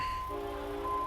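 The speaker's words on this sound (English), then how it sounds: "Somehow that train whistle just makes it a little bit more nerve-wracking." A steady multi-tone train horn chord sounds in American Truck Simulator's Montana countryside, starting just after a brief low engine hum and holding at an even, moderately loud level to the end.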